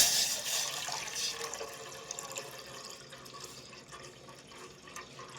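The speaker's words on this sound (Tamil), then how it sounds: "இப்போது தேவையான அளவு தண்ணி ஊற்றிக்கலாம்." Water is poured steadily into a bowl in a home kitchen while kanji (rice porridge) is being prepared, a close, continuous splashing stream with no talking.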